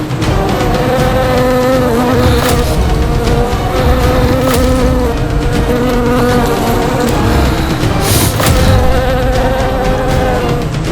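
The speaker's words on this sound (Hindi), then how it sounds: "ये भिनभिनाहट जैसे असंख्य कीट एक साथ ध्वनि उत्पन्न कर रहे हैं" A dense, loud, steady buzzing of countless insects like bees or flies swarming together, continuous and unbroken for the whole stretch, with no voices over it.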